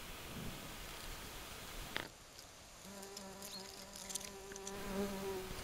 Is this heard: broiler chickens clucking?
no